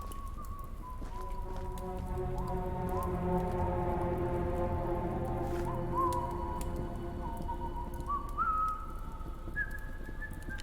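A monster train called Charles in a video game sounds its steam whistle: sustained, wavering whistle tones that shift in pitch and run continuously over a steady rumbling background.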